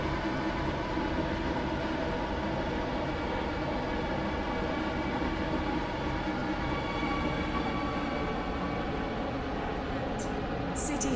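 Metro train in the video game SCR, an R031 five-coach unit, running with a steady loud rumble and rail drone throughout, with faint clicks near the end.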